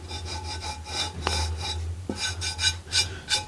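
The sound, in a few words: rubbing a cast iron pan with a Lodge rust eraser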